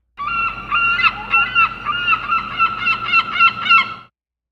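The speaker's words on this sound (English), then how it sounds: "See, that's more of like a traditional seagull right there." Seagull calls from a stock sound-effect recording, a series of loud, close, repeated squawking cries in quick rhythmic bursts over a faint low background hum, with no voices.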